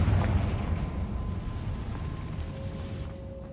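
Spell explosions in the video game Hogwarts Legacy: a deep, booming burst at the start trails off into a low rumble that slowly fades over a few seconds.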